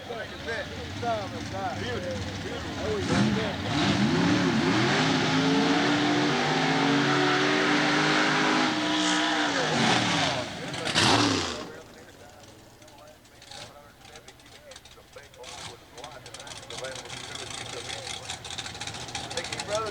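A 1963 Chevrolet Corvette split-window drag car from the McGee brothers' team rumbles and revs loudly at a dragway, its engine swelling and holding before cutting off. Crowd noise follows, and an announcer talks over much of it.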